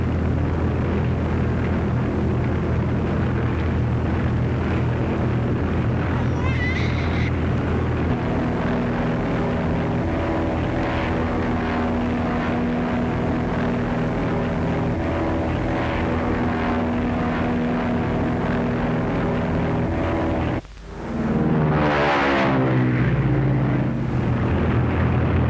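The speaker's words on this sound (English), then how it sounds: "High-wing monoplane just ahead of you, about 3 miles." A high-wing monoplane propeller aircraft drones loudly and steadily in flight, its engine tone shifting partway through before a brief dip and a swelling pass near the end.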